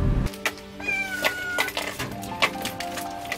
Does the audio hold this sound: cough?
no